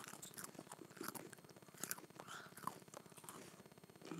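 Crunchy pretzels are bitten and chewed up close in a quiet ASMR setting, giving a steady run of crisp crunches and soft mouth sounds with faint whispery breaths.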